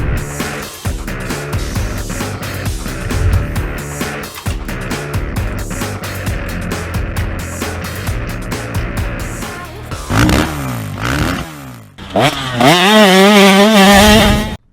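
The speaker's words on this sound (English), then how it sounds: "This is the first time I'm going to ride a dirt bike that is older than me." A 1975 Honda Elsinore CR250 two-stroke vintage dirt bike engine runs loud and close, with a steady buzzing drone that breaks off near the end and then rises again in sharp revving climbs.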